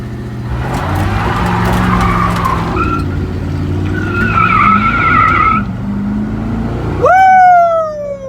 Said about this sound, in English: All right, I'm gonna see if I can brake torque it real quick.